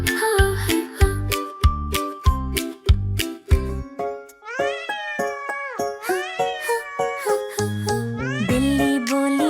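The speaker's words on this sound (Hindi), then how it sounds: "बिल्ली बोली म्याऊं म्याऊं" A cat meowing repeatedly over a bouncy children's rhyme tune, several drawn-out, rising and falling meows following a rhythmic run of plucked notes, loud and close.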